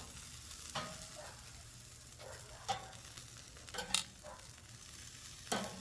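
Johnsonville hot and spicy brats on a Weber kettle grill: a quiet, steady sizzle with a handful of sharp clicks and scrapes from tongs moving the sausages.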